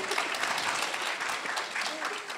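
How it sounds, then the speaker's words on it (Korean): A conference audience at a Naver tech event breaks into dense, continuous applause that stays fairly even from start to finish, with no voices over it. "박수 한번 쳐주세요."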